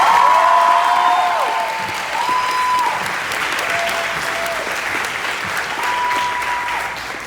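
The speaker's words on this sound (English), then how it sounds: "Let's give him a big round of applause." Audience applause at a University of Georgia camp gathering, a loud, dense round of clapping from a large crowd with a few scattered whistles, sustained for about seven seconds.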